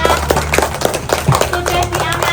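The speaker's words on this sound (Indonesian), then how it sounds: "Tepuk tangan Rafa." Children in a class give a short round of hand clapping after a maths lesson on hopscotch shapes, a few scattered sharp claps over murmuring voices and a low background hum.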